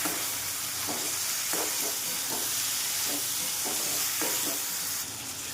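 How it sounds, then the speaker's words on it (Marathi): Steady loud sizzling of bitter gourd frying in oil, with occasional stirring scrapes breaking through the continuous hiss. "दोन ते तीन मिनटं व्यवस्थित तेलात फ्राय करणार"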